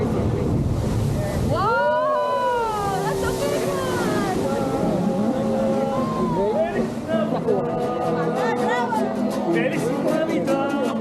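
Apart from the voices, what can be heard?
Bufadora blowhole water surge and ocean waves crashing against rocks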